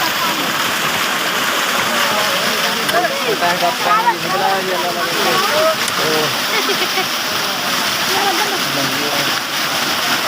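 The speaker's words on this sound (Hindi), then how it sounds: "पानी चल रहा है" Water from a motor-driven pump gushes in a steady, loud rush with splashing, and people talk over it throughout.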